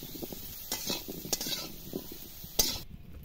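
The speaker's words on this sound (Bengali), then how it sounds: "হলুদ দিয়ে আবার একটু নেড়ে চেড়ে নিচ্ছি" Potatoes being stirred and fried with turmeric in a pan, quiet and close: a soft sizzle beneath intermittent scraping and clinking strokes of the spatula, with a sharper knock near the end.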